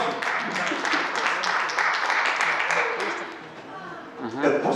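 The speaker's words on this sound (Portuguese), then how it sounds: "Você do- está do- dando um baita aplauso." A church congregation applauds, a patter of claps under a voice speaking over the crowd, fading out toward the end.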